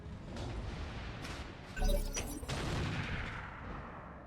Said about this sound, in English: Heavy autocannon turret. Yeah, that's an AC-20, alright.